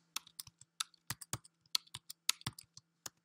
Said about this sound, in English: we're going to type in Increase